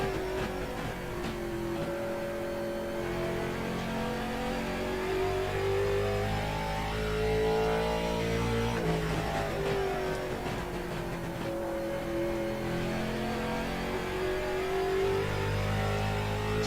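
A late model race car engine in the iRacing sim drones loud and close, its pitch climbing and falling as the revs rise and ease off through corners, with no voices.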